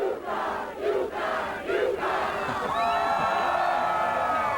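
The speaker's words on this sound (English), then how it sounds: "Somebody doing the UConn cheer, getting the crowd going here." A parade crowd shouts the UConn cheer in rhythmic bursts, a few loud group calls followed by a sustained roar of voices and cheering close by.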